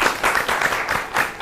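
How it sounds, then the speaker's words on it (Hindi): An audience applauds a Mahila Kisan awardee from NICRA village Said in Kathua district at a DD Kisan event: steady, dense clapping with a few swells, moderately loud throughout. "अब हम सब आपके लिए ताली बजाएंगे"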